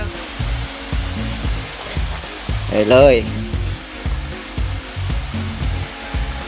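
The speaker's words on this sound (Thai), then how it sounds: "ได้ยินเสียงน้ำตกแล้ว" Tat Mok waterfall in Thep Sadet, Doi Saket, Chiang Mai, gives a steady, broad rushing roar close by, with someone talking over it throughout.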